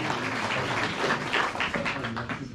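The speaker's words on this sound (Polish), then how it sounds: "Gorąco brawa" Audience applause at an awards ceremony for hunting horn players, a moderate wash of clapping that sounds slightly distant and fades toward the end.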